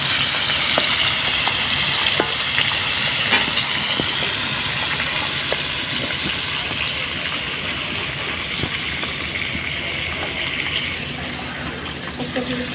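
Small hilsa fish frying together in hot oil, a loud, steady, close sizzle with crackling pops that continues unbroken, gradually easing slightly toward the end.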